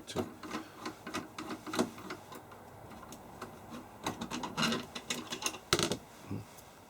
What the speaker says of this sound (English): So we need to just remove all of the 4 screws.